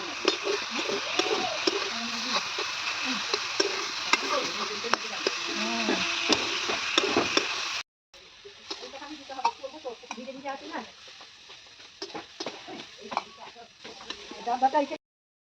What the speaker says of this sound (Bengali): কিছুটা শুকনো লঙ্কা দিয়ে দিয়েছি, আর শুকনো লঙ্কার ফোড়ন দিয়ে শাকটা ভাজবো